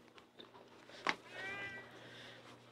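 A black and white cat at an animal humane society shelter in Edmonton meows once, sharp and brief, then gives a softer, drawn-out meow, fairly faint against a low hum of background noise.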